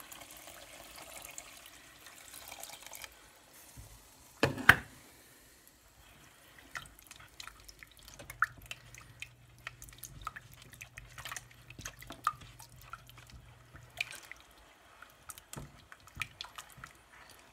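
Water and vinegar are poured into a mixture in a kitchen, heard as quiet splashes and scattered drips with one sharper splash early on. The sound is faint and close, with no talking.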